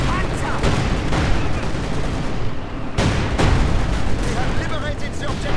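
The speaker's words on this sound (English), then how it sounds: "Panzer 4 firing away." A Panzer IV tank fires in Company of Heroes 2 amid a dense battle din, its heavy booms landing among continuous gunfire and explosions, with a voice commentating over the noise.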